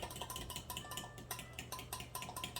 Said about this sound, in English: You just want to stir it as you dump it.